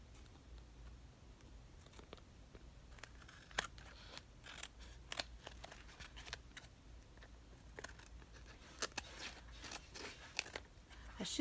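Scissors trim a paper postcard with irregular crisp snips and clicks, some sharper than others, close up and fairly quiet throughout.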